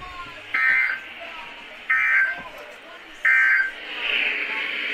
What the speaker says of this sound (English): This ends the test of the NOAA radio warning alarm.